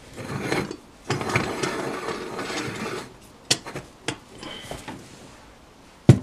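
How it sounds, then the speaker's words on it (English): The metal top of a Bialetti 9-cup stovetop espresso maker is screwed back on, giving bursts of gritty scraping and grinding followed by several separate clicks and knocks, close up with no talking. "Screw the top back on."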